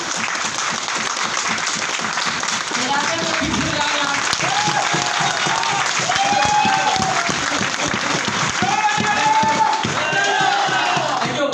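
A seminar audience applauds loudly and steadily, the clapping dense and sustained throughout with some cheering and voices mixed in.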